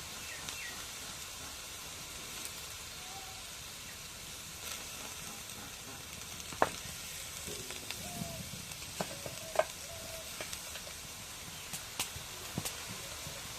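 Garlic paste and onion paste frying in a pan give a steady, fairly quiet sizzle with a few sharp clicks of stirring scattered throughout.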